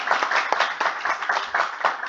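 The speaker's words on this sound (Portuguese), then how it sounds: "peço uma palmas aí para o Bruno" A small audience at a talk on China's electric-vehicle market claps for a speaker in a brief, thin patter of separate hand claps, fairly close and moderately loud.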